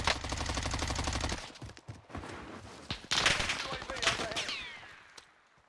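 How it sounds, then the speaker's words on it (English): Unsuppressed gunfire in Warzone, with a rapid rattling automatic burst at the start and then scattered sharp shots and distant cracks, under a voice talking. "That this guy shot an unsilent gun."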